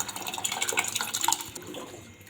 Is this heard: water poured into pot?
yes